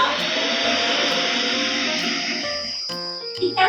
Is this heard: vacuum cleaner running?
yes